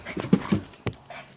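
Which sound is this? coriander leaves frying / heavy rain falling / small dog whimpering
small dog whimpering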